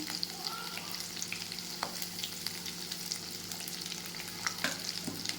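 Frying in a pan for potato egg curry, a soft even sizzle with frequent light clinks and scrapes of stirring throughout, close and fairly quiet, no talk.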